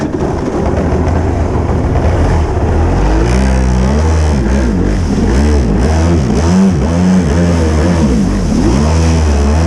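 A Kawasaki 650 Wavejammer personal watercraft engine drones loud and close, then revs up and down repeatedly in wavering surges, the pitch rising and falling with the throttle and no talk over it.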